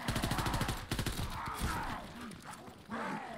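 Rapid bursts of gunfire from a WWII Zombies video game, several quick volleys of shots in the opening second, followed by a sustained busier game mix with occasional louder hits.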